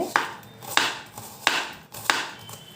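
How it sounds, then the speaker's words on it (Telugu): Onions being chopped into small pieces with a knife on a board: four sharp, evenly spaced chops about two-thirds of a second apart, close and crisp, with quiet gaps between and no voices. "ఈ సైజు ఉల్లిపాయలు తీసుకుని కట్ చేసుకోవాలండి. చిన్న చిన్న ముక్కలుగా కట్ చేసుకోవాలండి."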